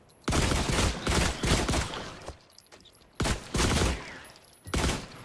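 Rifle firing tracer rounds in The Last Caretaker, heard as three loud, close bursts of rapid shots separated by short pauses.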